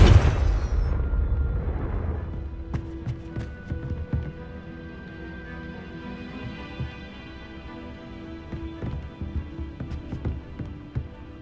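Confringo and Incendio spell blasts from Hogwarts Legacy: a loud explosive burst opens, then decays into a crackling, rumbling tail with faint tonal hums and a few scattered pops.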